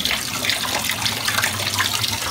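Coolant leaks from the radiator of a Mazda Friendee in a steady, loud, gushing hiss that runs without a break, close to the listener.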